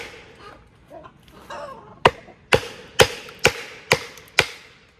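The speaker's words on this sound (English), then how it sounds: "I'm gonna hammer this wedge in there, see if that works." A wedge being hammered into wood to split it, six sharp metallic strikes at an even, unhurried pace, each loud and close with a brief ring, after a few softer fumbling knocks.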